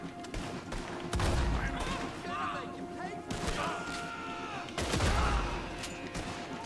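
Gunfire, a shotgun fight in Red Dead Redemption 2, comes as loud, sharp blasts in clusters. Clattering impacts sit between the shots, and speech is mixed in.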